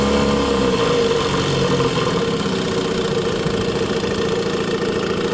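A 1955 Mercury Mark 6 Super Silent 6 outboard boat motor idles steadily with a low, even rumble and slight knocking, close by and continuous, with no voices.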